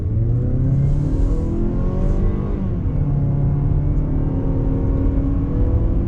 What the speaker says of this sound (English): you're really going to have to work to get the power out of this naturally aspirated engine